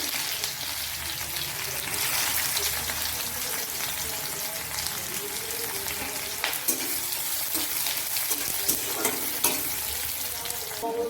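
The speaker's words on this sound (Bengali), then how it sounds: "পেঁয়াজটা দিয়ে দিচ্ছি" Chopped onion frying in oil in a wok, a steady soft sizzle with faint stirring clatters, close and alone without talk.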